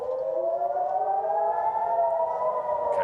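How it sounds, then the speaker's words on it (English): Civil defense air raid sirens sound across Israel during a missile attack, one long steady wail that rises slowly in pitch, loud and continuous with no talking. "the sirens are now increasing their intensity"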